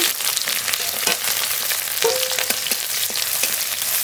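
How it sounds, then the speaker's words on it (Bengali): Chopped onions fry in hot mustard oil with bay leaf and cumin in a kadai, a steady bright sizzle with occasional stirring scrapes and clicks, close and continuous throughout. "পেঁয়াজটা একটু ভাজা ভাজা করে নেব"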